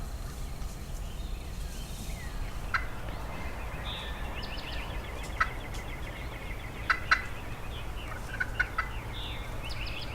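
A wild turkey in a Georgia field gobbles several times, loud bursting calls spread out over a steady low rumble of outdoor ambience, with no talking.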